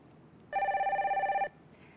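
A telephone ringing for a viewer call-in on a Korean stock-market broadcast: a single steady electronic ring burst lasting about a second, clear and prominent, alone without talk.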